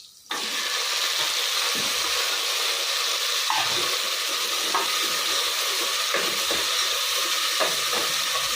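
About half a kilo of broken cluster beans frying in oil, a loud, steady sizzle starting abruptly as they hit the pan, with intermittent stirring clinks and scrapes close by.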